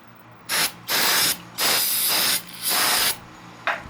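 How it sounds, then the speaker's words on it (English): Brake cleaner sprayed onto the drain plug of a 2018 KTM 390 Duke, four loud close hissing bursts about half a second each with short gaps, then a brief final spurt. "hit it with some brake clean, get it as clean as you can"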